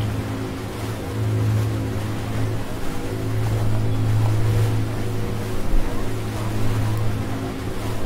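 Rescue cruiser Hermann Marwede under way at sea in Ship Simulator, a steady low engine drone with washing water and wind noise, continuous and fairly loud throughout.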